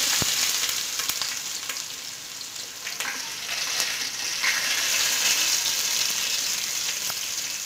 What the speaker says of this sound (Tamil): நான் பெரிய வெங்காயம் வந்து கட் பண்ணி வச்சிருக்கேன் ஒரு 3 வெங்காயம் அதையும் சேர்த்துக்கறேன்